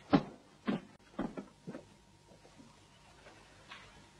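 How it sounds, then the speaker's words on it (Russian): Several wooden knocks and clunks, like a door being handled and shut, come in a quick irregular series of four or five close thuds, then fade to quiet room tone with one faint later knock. "Дверь."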